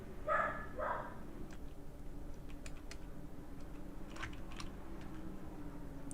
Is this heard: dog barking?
yes